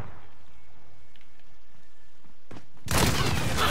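Gunfire erupts in the Modern Warfare video game, a sudden loud burst of shots arriving after a stretch of quiet, low background ambience.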